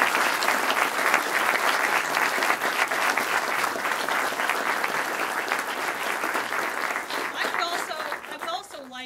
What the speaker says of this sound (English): I hope you'll join me in giving a round of applause